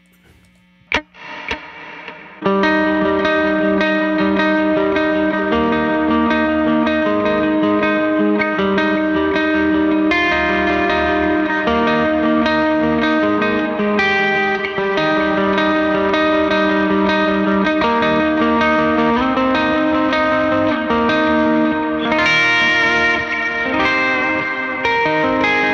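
An electric guitar plays through an Aspen Overdrive pedal with a chill reverb, a few plucked tones and a pause giving way to sustained, lightly distorted chords and melodic notes ringing with wash and echo, loud and continuous without talk.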